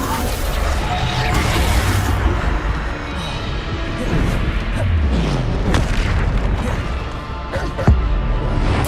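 Heavy booming impacts and crashes from Descendo spells in the video game Hogwarts Legacy, several loud thuds and smashes overlapping in a dense, chaotic battle mix with a sharp hit near the end.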